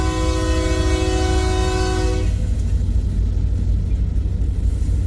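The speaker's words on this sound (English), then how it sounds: "And an ES44 DC pulling a loaded corn shuttle west, coming off the Council Bluffs Sub onto the Creston Sub here at Pacific Junction" An ES44DC diesel locomotive hauling a loaded westbound corn shuttle train at Pacific Junction, Iowa, sounds a loud, sustained multi-tone horn for about two seconds, then the heavy rumble and clatter of the rolling train carries on alone.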